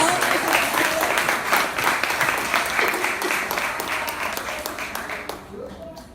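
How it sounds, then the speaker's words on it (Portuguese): A church congregation applauds the Lord, a dense wash of clapping throughout that thins out toward the end, with voices mixed in. "Aplauda o Senhor"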